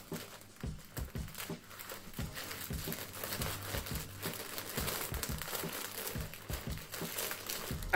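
Crinkly packaging being folded by hand for reuse, a run of close, irregular crackling and crumpling bursts continuing throughout at moderate loudness, no talking.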